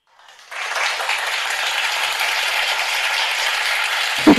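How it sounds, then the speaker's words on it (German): Dense applause swells up quickly and carries on at an even level for several seconds, sounding close and loud, then a voice briefly cuts in at the end. The hall or room is not identified. "Applaus!"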